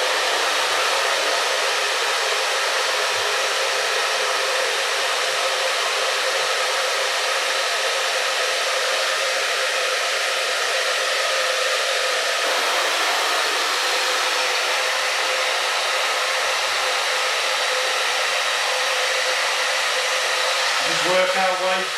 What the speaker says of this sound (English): It's well worth a little bit of patience when you use the diffuser.